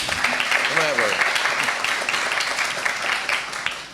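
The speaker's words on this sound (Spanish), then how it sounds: "Pueden aplaudir, pueden aplaudir." A seminar audience applauds, the dense clapping filling the room throughout while a voice speaks briefly over it.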